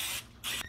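Cooking spray hisses onto chicken pieces for an air fryer in two short, close bursts separated by a brief pause.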